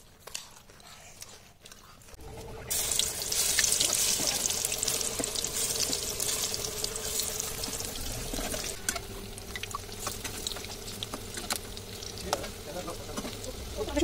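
Water splashes into a hot pan while spinach pakora cooking sizzles steadily and loudly for most of the stretch, in a home kitchen during Ramadan.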